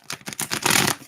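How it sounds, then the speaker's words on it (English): A deck of tarot cards being shuffled: a quick, close run of papery riffling and flicking that builds to a dense burst, lasting about a second. "I'll make sure these are shuffled good."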